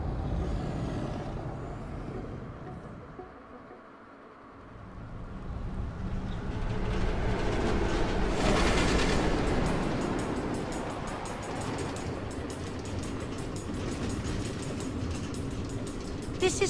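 Rumbling, hissing train noise from the automated tracks in Minecraft: Story Mode, a steady broadband roar that swells midway and stays loud, with a brief lull early on and hints of voices mixed in.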